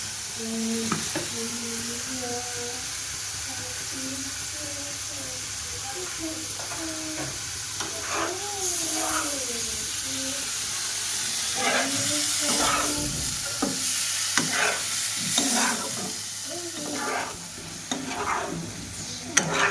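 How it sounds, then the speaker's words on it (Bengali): Spices sizzle in a pan for a cauliflower and prawn curry while a spoon stirs and scrapes, a steady frying hiss with intermittent scraping strokes, and voices are faintly heard in the background. "এবার আমি মশলাগুলো দিয়ে দিচ্ছি।"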